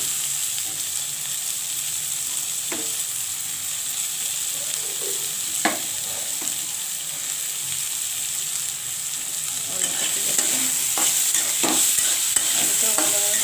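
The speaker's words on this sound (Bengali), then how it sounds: "তাই আমি এখন আলুটা তুলে দিই।" Potatoes sizzle steadily in hot oil in a pan as a spatula scrapes and stirs, with intermittent clatters and the frying growing louder toward the end.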